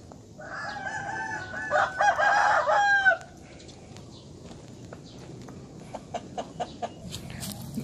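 A fighting-cock rooster crows loudly in a breeding coop at a farm garden beside a canal, one drawn-out call in the middle, followed by soft clucks and light footsteps in a quiet outdoor setting.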